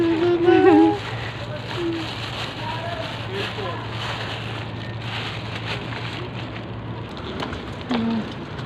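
Heavy rain falls in a steady, dense hiss with a low constant hum beneath, while voices speak briefly over the downpour near the start and end.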